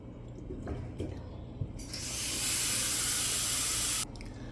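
Water is poured into an oven for baking a fruit cake, giving a bright hissing splash that lasts about two seconds after a few quiet clinks and knocks.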